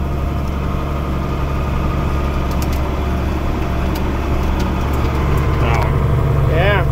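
Steady low, droning engine of a John Deere Soundguard-cab tractor hauling manure, running continuously and close by, with a few faint higher tones rising briefly near the end.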